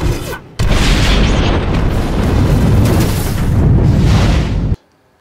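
A loud, sustained film explosion roars with a heavy boom and rumbling debris for about four seconds, then cuts off abruptly into quiet.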